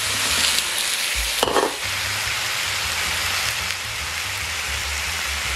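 Mixed mushrooms stir-fry in a hot pan with sesame, a loud, steady, close sizzle throughout, briefly broken by a clattering stir near the middle.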